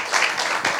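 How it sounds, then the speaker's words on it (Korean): A lecture audience gives a short burst of clapping for the library director and staff, brief and fairly close, rising and fading within a moment. "우리 관장님과 준비하시는 여러 선생님들 위해서 박수 한번 쳐주실래요?"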